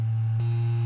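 A Creality Ender 3 V2 Neo 3D printer with broken fan blades running loudly, a steady low droning hum with a brief dip partway through, continuous and close.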